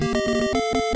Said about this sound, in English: some of these alerts, when they go off, the sounds that they've selected for you to use are pretty, pretty loud